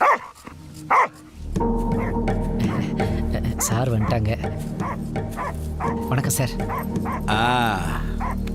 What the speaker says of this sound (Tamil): நாய் ரொம்ப நேரமாக குலைக்குது